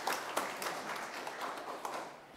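A church congregation claps together during a traditional service, a steady patter of many hands with a few sharper accents, filling the room at moderate level for a couple of seconds.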